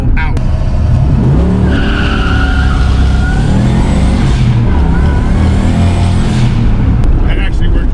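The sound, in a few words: car started with the Tamer, clutch pedal out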